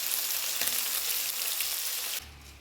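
Fish frying in a pan for a home lunch, a steady close hiss of hot oil sizzling with a faint stir, cutting off near the end to quiet.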